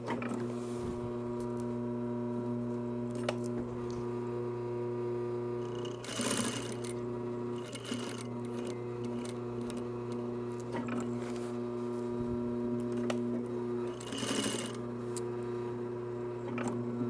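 A sewing machine stitches velcro onto a shoulder bag, running a continuous humming whir with brief louder bursts of rattling at intervals, close-up and steady.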